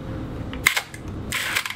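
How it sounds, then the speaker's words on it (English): Two sharp mechanical shutter releases from a Pentax 645 medium format film camera fired with the film back removed, a loud clack near 0.7 seconds and another around 1.3 seconds, close up in a quiet room. "It's a noisy camera."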